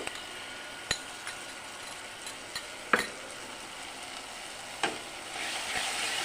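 Masala fried with yogurt for mutton curry in a pan, a soft sizzle under scattered sharp clinks and scrapes of a spoon stirring, quiet and close, with the sizzle swelling near the end.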